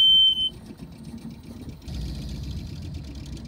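A catamaran's engine motoring out of an anchorage, a low steady chugging hum that grows a bit louder and busier partway through, preceded by a brief sharp tone.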